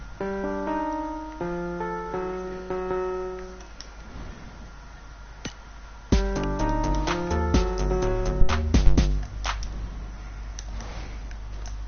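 A synth melody for a song remake plays in bright, stepping notes, then gives way to a denser stretch of layered stabs and clicks over a low bass. There is no talking.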